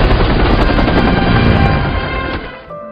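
Loud, dense rotor and engine roar of a helicopter lifting off, with crackling bursts mixed in, fading somewhat near the end.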